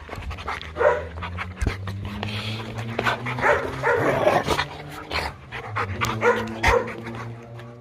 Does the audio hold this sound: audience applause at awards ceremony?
no